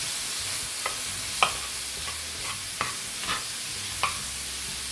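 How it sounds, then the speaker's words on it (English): Tomatillos cook in a pan with a soft continuous sizzle, punctuated by a handful of sharp scraping strokes as they are stirred, close by and fairly quiet. "we're just going to stir and cook until they start browning"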